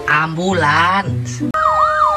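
An ambulance siren wails loudly at close range in a short repeating up-and-down pattern; a voice imitates the siren first, then the electronic siren itself sounds for the final stretch.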